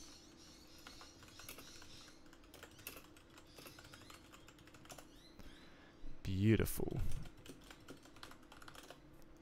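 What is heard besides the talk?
typing on a computer keyboard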